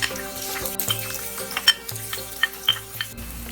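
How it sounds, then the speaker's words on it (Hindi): Chopped onions fry in a tablespoon of hot oil in a pan, a soft sizzle under a faint steady hum, broken by several light scraping and stirring knocks, close up, with no talking. "तेल थोड़ा गर्म हो जाए तो प्याज डाल दें"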